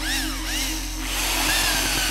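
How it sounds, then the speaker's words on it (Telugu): A power drill bores into a wall while mounting a board, and the bit snaps; a steady, loud mechanical whine with shifting tones runs throughout, alone and without voices. "డ్రిల్ బిట్ ఇరిగిపోయింది"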